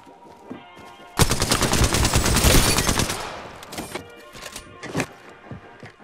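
Automatic weapon fire in the Apex Legends video game: a loud, rapid burst of shots lasting about two seconds, then a few scattered single shots and faint mechanical clicks.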